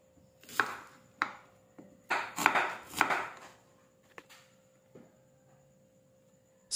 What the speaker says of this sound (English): Slice onions.